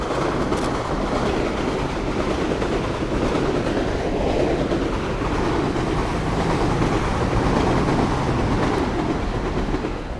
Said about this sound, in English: here's a train again.